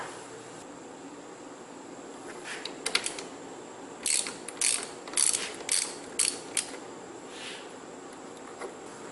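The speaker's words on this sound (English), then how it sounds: "Got the battery cable disconnected" A ratchet wrench clicks on a car battery cable terminal of a 2016 Nissan Frontier, a close, quiet series of short bursts of rapid ratcheting with brief pauses between strokes.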